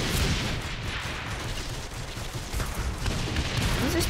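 Continuous gunfire in Saints Row The Third, a dense, steady barrage of shots and explosive crackle that stays loud throughout with little pause.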